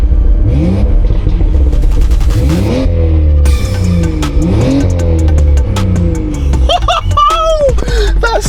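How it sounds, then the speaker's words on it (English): An old BMW engine, freshly tuned, revs hard in a series of rising and falling sweeps, loud and close, with a sharper burst of high whine near the end. "I'm going to give it a few revs."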